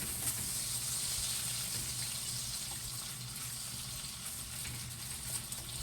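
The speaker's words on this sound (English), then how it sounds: "So let's get this sausage nice and brown." Sausage browning in a pan for a New Orleans style jambalaya, a steady bright sizzling hiss that holds evenly throughout with a low background hum and no talking.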